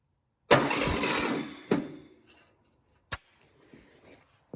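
An air-cooled VW engine cranks briefly during a compression test: a close mechanical whirring burst of about a second and a half that fades, then sharp isolated clicks and a short knock in otherwise quiet surroundings.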